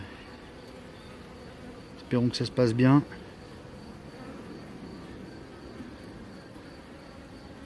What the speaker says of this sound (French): il y a des abeilles toutes neuves